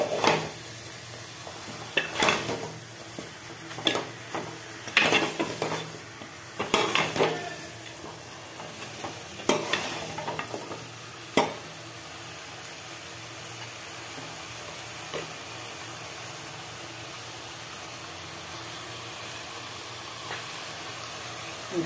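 Chicken curry gravy simmering down in a pan, with scattered clinks and scrapes of a spoon stirring against the metal over a steady low bubbling, busier early on and quieter later.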